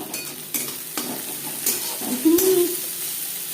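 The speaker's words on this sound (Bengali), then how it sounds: "মাছ ভেজে নেওয়া তেলে দিয়ে দেবো পেঁয়াজ কুচি।" Chopped onion, two onions' worth, frying in oil left from frying pabda fish, with a soft steady sizzle under occasional stirring and clinks of a utensil against the pan.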